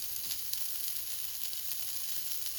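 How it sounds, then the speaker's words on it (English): Sausages sizzle steadily in a hot pan, a continuous crackling hiss with small pops, fairly quiet and close, without any talking. "our sausages are starting to sizzle"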